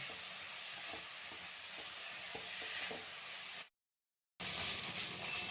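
Beetroot sautés in a pan for a beetroot poriyal with a soft, continuous sizzle, punctuated by regular clicks and scrapes of a spatula stirring. The sound cuts out briefly before the frying resumes.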